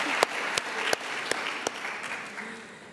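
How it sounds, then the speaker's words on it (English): Audience clapping at a gender equality anniversary event, a moderate round of applause with a few sharp individual claps standing out near the front, tapering off as it ends. "yes, you can clap for that."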